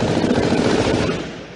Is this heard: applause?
no